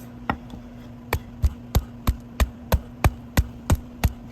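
Repeated hard thuds as a stiff Rawlings Rev1x infield baseball glove is pounded to break it in, about a dozen sharp, evenly spaced blows in steady rhythm, close and loud, with no voices.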